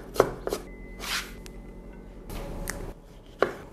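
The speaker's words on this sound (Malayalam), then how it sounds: "ജിഞ്ചറും അതുമാതിരി തന്നെ നമുക്ക് ചോപ്പ് ചെയ്തെടുക്കാം." Fresh ginger chopped with a sharp knife on a cutting board in a home kitchen, sharp irregular knocks and short rapid bursts of blade strikes, close and clear with no talking.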